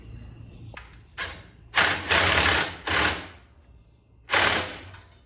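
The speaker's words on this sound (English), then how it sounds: "There's some set screws I'm gonna tighten up on the axle." Set screws on new go-kart axle bearings are tightened with a tool: a sequence of close, loud bursts of metallic ratcheting and grinding, some short and some held, broken up by quiet gaps and a few light clicks.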